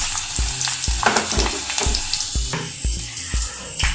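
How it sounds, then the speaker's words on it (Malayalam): Finely chopped garlic and ginger fry in oil in a pan for a Kerala fish curry with kudampuli, giving a steady close sizzle broken by regular scraping stirs about every half second, with no talking. "നമുക്ക് അടുത്തതായിട്ട് വെളുത്തുള്ളി ഇഞ്ചി ഒന്ന് മൂപ്പിച്ചെടുക്കണം."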